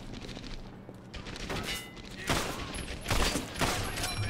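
Gunshots in Medal of Honor: Airborne during Operation Varsity, a burst of loud, close cracks and rapid fire that builds toward the end amid battle noise.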